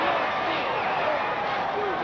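A large wrestling crowd roars steadily in a big arena as fans rise to their feet, a dense, continuous wall of cheering noise that holds at full volume throughout.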